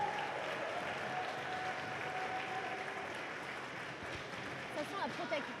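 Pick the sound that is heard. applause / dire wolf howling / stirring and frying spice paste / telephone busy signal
applause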